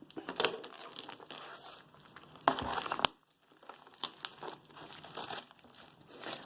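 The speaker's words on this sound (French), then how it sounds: "Donc on va commencer par ouvrir le coffret." Opening a Magnusson combination wrench set case: crinkling and rustling of packaging with sharp clicks and scrapes of the plastic case, intermittent and close.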